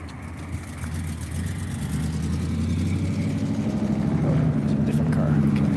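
In a video game, a car engine hums and slowly swells louder as the vehicle approaches and drives past, with a person talking over it.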